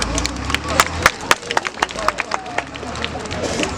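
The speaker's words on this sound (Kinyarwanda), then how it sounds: "Amashyi menshi ku bayobozi." A crowd claps for the leaders with a loose, uneven patter of hands that starts dense and thins out over several seconds. A murmur of voices runs underneath.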